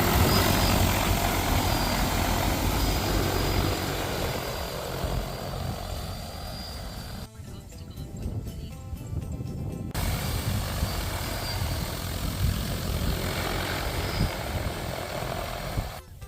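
Large agricultural crop-spraying drone flying over fields in Malaysia, a steady loud rotor drone that continues throughout with a brief dip midway.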